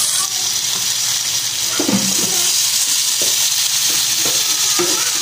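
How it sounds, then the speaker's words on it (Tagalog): Milkfish (bangus) dropped into a hot pot with ginger sizzles loudly and steadily, a constant frying hiss with a few clinks and stirring sounds from utensils against the pot. "ilalagay na po natin ng ating isda. Lagyan na po natin ng ating bangus."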